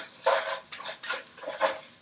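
Barley being stirred in a pot for risotto, a spoon scraping and knocking against the pot in several close, uneven strokes with no talking.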